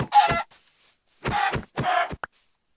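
Chickens clucking in the video game Minecraft, several short separate clucks with brief pauses, close and clear with no talking.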